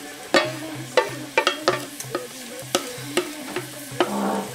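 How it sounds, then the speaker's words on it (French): Small onions frying in a saucepan over high heat give a soft steady sizzle, broken by sharp clacks and scrapes of stirring at an irregular rhythm, close and moderately loud. "je vais mettre mes petits oignons à revenir"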